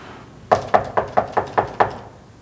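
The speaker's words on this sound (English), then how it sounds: "He'll keep knocking until we answer the door." Seven sharp, evenly spaced knocks on a door, close and loud, in a quick steady rhythm, with no voices over them.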